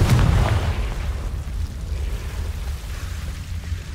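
A Confringo blast spell from Hogwarts Legacy goes off with a loud, deep boom, followed by a low, rumbling roar that lingers steadily for several seconds.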